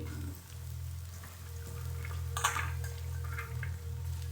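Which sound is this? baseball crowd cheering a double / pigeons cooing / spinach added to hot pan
spinach added to hot pan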